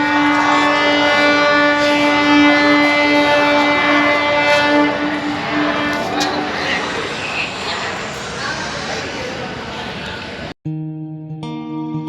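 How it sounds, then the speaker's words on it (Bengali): Tamralipta Express pulling out of Howrah station: a loud, close train horn blares long and steady over rumbling wagons and rail noise, with people talking nearby and a brief electronic tone near the end. "এই যে ট্রেন ছেড়ে দিয়েছে হাওড়া থেকে তাম্রলিপ্ত এক্সপ্রেসে করে যাচ্ছি পুরো দীঘা"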